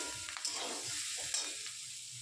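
Green peas frying in a pan for a vegetarian paneer curry give a steady, close sizzle, with a few louder scrapes of stirring over the hiss.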